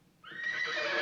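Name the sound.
horses neighing in the film Young Frankenstein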